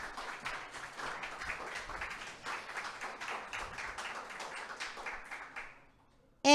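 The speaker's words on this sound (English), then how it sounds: "let's give a round of applause for all of our presenters" Audience applause for a group of presenters at a UK graduate research Three Minute Thesis evening, sustained steady clapping at moderate level for about six seconds before fading out abruptly.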